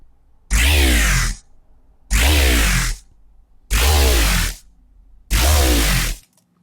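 A Serum dubstep growl bass plays without FM from oscillator B, giving four loud, sustained, gritty synth notes with near-silent gaps between them, alone with no voices.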